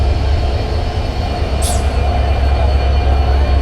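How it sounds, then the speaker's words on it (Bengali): A train locomotive at Parbatipur Junction rumbles steadily and loudly nearby, with a brief high metallic squeal cutting through midway. "পার্বতীপুর জংশনে আরেকটা ট্রেনের ইঞ্জিন"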